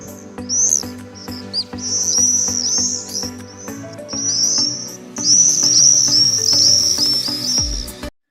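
A swallow twitters close and clear in a long string of rapid, high chirps with short breaks, over a faint low steady hum.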